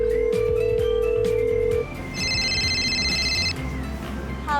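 A telephone rings during a call. A steady tone gives way to a bright, repeating electronic ring, with a busy background bed running underneath throughout.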